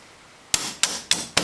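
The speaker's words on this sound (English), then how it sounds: "hammer in the pin" Four sharp hammer taps driving a handguard pin into a rifle, evenly spaced about a third of a second apart, close and crisp with a quick ringing decay after each strike.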